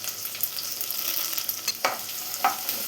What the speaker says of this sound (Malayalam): ഇതെല്ലാം കൂടെ ഒന്ന് വഴറ്റിയെടുക്കാം.